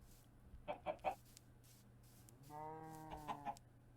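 Chickens in the video game Minecraft give several short, quiet clucks, three quick ones and later a pair, alongside a brief sustained tonal call, against a soft low hum.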